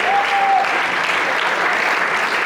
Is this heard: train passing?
no